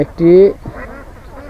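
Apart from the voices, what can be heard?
ducks quacking at a duck farm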